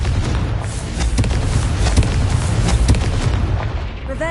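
Confringo fire-spell blasts in Hogwarts Legacy, a dense run of loud booming explosions and crackling bursts layered over each other, with a short tonal whoosh at the end.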